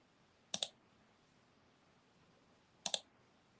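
A computer mouse button is clicked twice, each a sharp double click close to the microphone, separated by a couple of seconds of near silence.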